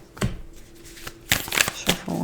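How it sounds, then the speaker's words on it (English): Tarot cards being shuffled by hand, a series of quick riffling flutters and papery snaps in irregular bursts, close up, with faint sounds between the shuffles. "Shuffle one more time."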